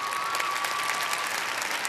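Studio audience on a TV game show about stacking 20 dice into one column breaks into sustained, dense applause, a steady wash of clapping hands with a faint crowd murmur and no pause across the stretch.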